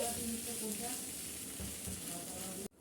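Chicken stirred in a frying pan with potato and egg, giving a constant close sizzle with light scraping of the stirring, until the sound cuts off abruptly near the end.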